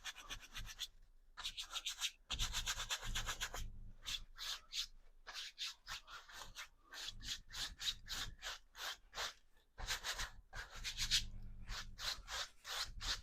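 Paint brush scrubbing paint onto a canvas for a valley landscape painting, quiet close-up rhythmic scratchy strokes in short bursts with brief pauses between them.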